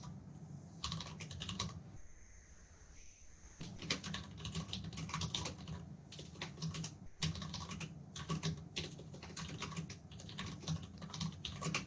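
Fingers tap quickly on a computer keyboard in uneven bursts with short pauses, close and clear, and nobody speaks.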